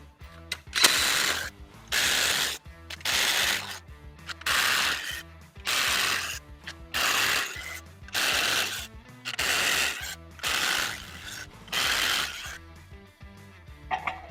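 A ratchet wrench tightens bolts on a portable Texas star stand, giving seven or eight loud bursts of rapid clicking, each roughly a second long, with short pauses between them and no talking.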